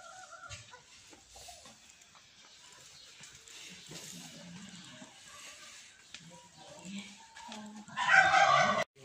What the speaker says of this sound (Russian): Вот куры здесь.